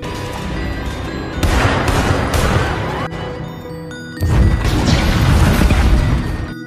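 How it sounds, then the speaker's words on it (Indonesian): Loud bursts of gunfire and crashing impacts in a chaotic shootout, with heavy booms over a dense, continuous background of action. "Tembak-tembakan kemudian tak terhindarkan."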